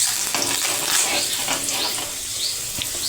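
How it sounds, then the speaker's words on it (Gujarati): Curry leaves and chopped garlic hit hot tempering oil for chana dal, producing a loud, dense, continuous sizzle and spatter with light stirring noises. "હવે આપણે વઘારમાં મીઠા લીમડાના પાન નાખીશું। આ રીતે મેં 2 થી 3 લસણની કળી લીધી છે"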